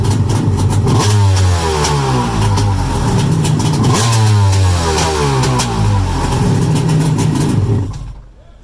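Engine of a 1995 Yamaha Wave Blaster jet ski running out of the water after carburetor adjustment, a loud close buzzing two-stroke drone with repeated revs rising and falling before cutting off near the end.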